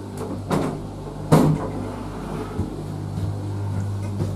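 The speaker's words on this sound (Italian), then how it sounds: "Le porte si chiudono adesso." Cabin doors of a Leitner gondola cable car on the Castelir – Le Fassane – La Morea line shutting, with a couple of knocks and then one firm thud, over a steady mechanical hum.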